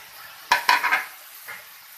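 A spatula stirs green vegetables into patty filling frying in a pan: two quick scraping strokes followed by a short rustling sizzle, then a fainter stroke, close and alone over a quiet background.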